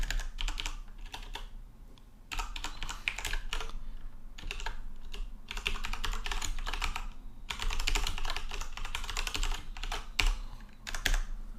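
Rapid, continuous typing on a computer keyboard while writing code, with dense clusters of keystrokes, brief pauses between bursts and a steady, close-up clatter throughout.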